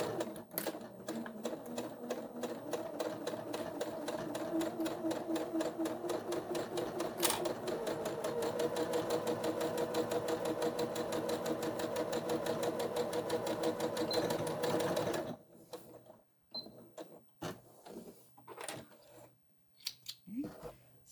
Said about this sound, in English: Back stitching.